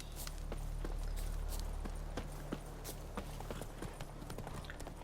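Roach, a horse in The Witcher 3, clip-clops along with a steady walking rhythm of hoof strikes, close and clear over a constant low ambient hum of game background sound.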